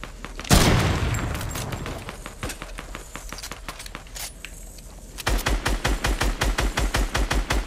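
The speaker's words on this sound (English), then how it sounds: "someone just shot at me and that's sketchy" Gunfire in a Fortnite match: a loud close shot, then scattered single shots, followed by a rapid rhythmic burst of about a dozen evenly spaced reports near the end.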